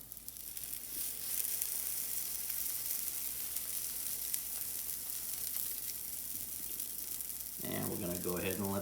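Pancakes cook on a griddle with a continuous near sizzle and crackle. Near the end a person starts speaking over the frying sound.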